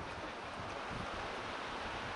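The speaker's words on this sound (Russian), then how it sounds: "Ветер, конечно, сильный у нас." Strong wind roars continuously across the microphone on a beach, with a broad rushing noise like surf in the background, steady and loud.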